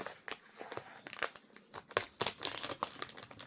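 Plastic packaging around a set of oven mitts and pot holders is cut and pulled open, giving quiet, irregular crinkles and crisp snaps in short bursts, close up, with no voice.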